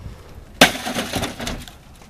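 Glass shatters out of a BMW 328is car window in one sharp crash, followed by about a second and a half of tinkling, scattering shards, close and loud with no talking.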